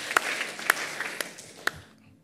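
A church congregation claps together during a Sunday service, a brief burst of scattered hand claps with a few sharp strikes that fades out.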